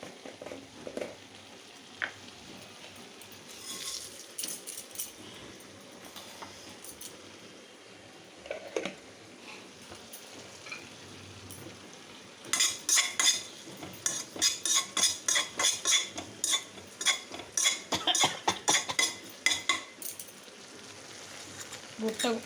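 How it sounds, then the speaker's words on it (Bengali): Food fries in a pan at home with a faint sizzle, then a spoon or spatula scrapes and clinks against the metal in quick repeated strokes during the second half. "কালকে এটা ভাজা হয়নি, একটু ভাজি এটা।"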